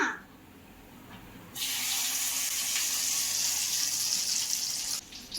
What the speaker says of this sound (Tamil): ஆல்ரெடி ஃப்ரிட்ஜில் வச்சு கூறு இருந்ததை இப்போ நம்ம எண்ணெயில் போட்டு பொரிச்சிக்கலாமா?